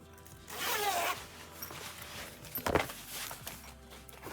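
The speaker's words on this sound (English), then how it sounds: "It has a zippered closure, and the zippered pull actually says Disney." A zipper on a nylon bag with a Disney-branded pull is drawn open in one long rasping sweep, then pulled again in a shorter burst, close and clear with light rustling between.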